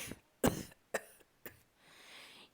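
A person coughs hoarsely into a fist, producing three sharp, separate coughs spaced about half a second apart, then a soft, breathy exhale that trails off in a quiet room.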